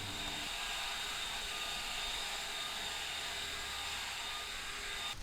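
An Enhulk 930 cordless leaf blower running steadily with its spread nozzle on the turbo setting, a constant high-pitched whine and airy rush moving leaves, loud and close, with no talking.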